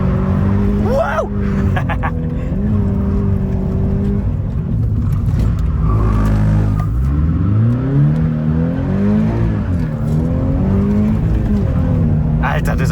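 Toyota GT86 engine revving hard while drifting in second gear with clutch kicks, loud rising and falling revs with tire squeal, close up, with someone talking over it.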